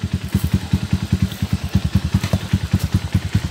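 A motorcycle engine runs close by with a fast, even chugging pulse, a steady throbbing idle that holds for several seconds with no voices over it.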